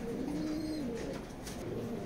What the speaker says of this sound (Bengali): কবুতর প্রত্যেকটাই ভালো কবুতর